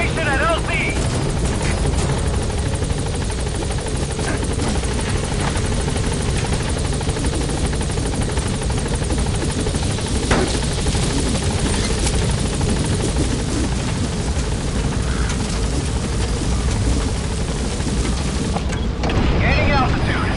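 Support helicopter arriving at a landing zone in Metal Gear Solid V, a loud, continuous rotor thump and engine roar close by, sustained the whole time with radio voice chatter over it.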